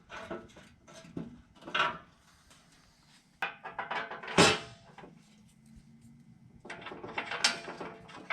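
A ratchet fastens the nut on a J-bolt holding an AEV skid plate under a Chevy ZR2 diesel truck, heard as bursts of close mechanical clicking and clanking with metallic knocks and a sharp clack midway, spread irregularly through the clip.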